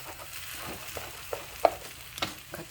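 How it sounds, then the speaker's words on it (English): Chicken and veggie fried rice being stirred and scraped across the bottom of a hot pan, a steady soft sizzle broken by several sharp utensil scrapes and knocks, close and fairly quiet with no talking. "Keep making sure you scrape in the bottom of that pan so it's not sticking"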